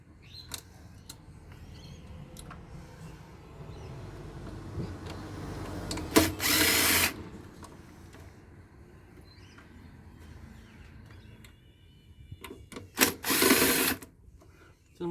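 A power drill undoes screws on a scrapped solar inverter, two short loud whirring bursts standing out from quieter rattling and handling noise.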